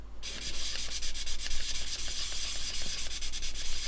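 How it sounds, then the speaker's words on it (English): Sandpaper is rubbed in small circles over the curved painted surface of a scale model, a steady close scratchy rasp pulsing in quick repeated strokes with no talking. "So I just sand for a while and I'm watching what I'm doing."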